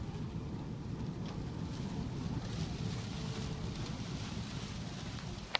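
A strong sandstorm wind blasts continuously against the microphone, a loud, steady roar with gusty rumbling and no pauses.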